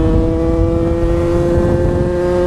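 A two-stroke dirt bike engine in Malaga, Spain holds a loud, close, steady high-pitched buzz with sharp tonal harmonics, running alone without any talk.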